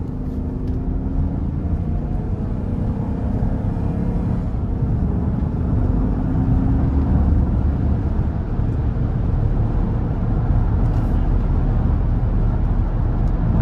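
2017 Chevrolet Suburban Premier with the 5.3 V8 accelerating onto an interstate, heard from inside the cabin as a steady, loud low-pitched engine and road drone that swells slightly partway through.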